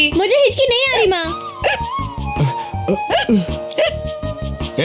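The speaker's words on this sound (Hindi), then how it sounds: "ये हिचकी की आवाज डबल डबल क्यों आ रही है?" Repeated hiccups in a Hindi-dubbed action-romance film scene, short jerky vocal bursts heard over dialogue, music and busy background sound.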